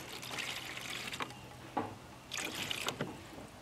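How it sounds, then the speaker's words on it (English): Water poured into the bottom of garden seed trays, a soft trickling and splashing in uneven bursts, faint and close with a couple of louder gushes. "I'm gonna pour some water in the bottom."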